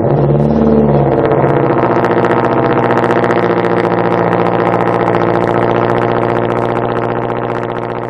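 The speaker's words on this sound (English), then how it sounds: "It's that new cold start" A car engine on a cold start, loud and close: a rising rev flares at first, then settles into a steady, high fast idle that slowly eases down, with no talk.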